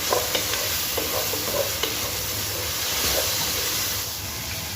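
Onion and tomato frying together in a pan, a loud continuous sizzle and hiss close by with a few soft scrapes and clicks of stirring, no talk.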